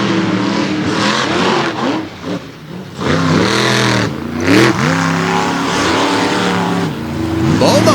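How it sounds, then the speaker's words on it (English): Two race machines, a 557 cubic inch KB Olds and a 540 Ford, launch from the starting line at an All Star Championship event. Loud engines roar with rising and falling revs and sweeping pitch, close and dominating throughout. "Right now is on the starting line the big 557 KB Olds in the back of the Toxic Ford up against the Dent Side Ford 540 Mitch Tolochka"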